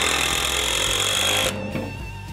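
A power driver sinks a 3-inch screw at an angle into wood for a cabin project, a loud, steady, whining drive that cuts off abruptly partway, leaving a lower fading tail.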